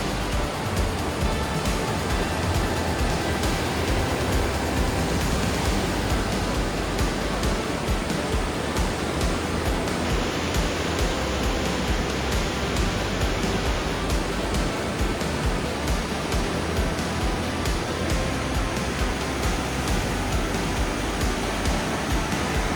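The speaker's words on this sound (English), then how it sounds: "I'm seeing another waterfall" A waterfall beside a forest hiking trail pours in a constant broadband rush, dense and steady throughout, loud and close with no voices, only the even roar of falling water.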